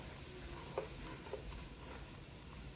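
A flour and oil roux for seafood gumbo is stirred in a pot with a faint, steady sizzle and two soft scrapes of the spoon, quiet and close.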